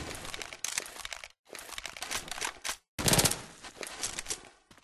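Rifle fire in the video game Left 4 Dead 2: three loud, close bursts of rapid automatic shots separated by brief silences, the last burst the strongest, with no voices.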